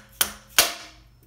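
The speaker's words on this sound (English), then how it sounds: "Grab a soft blow hammer here." A soft blow hammer strikes the top of an engine valve on a Mopar flathead engine during disassembly to release the valve keepers. There are two sharp, close taps about a third of a second apart, each ringing briefly.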